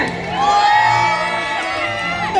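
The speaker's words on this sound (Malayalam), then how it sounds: "കൂടെ ഒന്ന് കൈയടിച്ച് കൂകി വിളിച്ച്" An audience at a Malayalam comedy reality show hoots and cheers loudly, with high whooping voices rising over a continuous crowd roar.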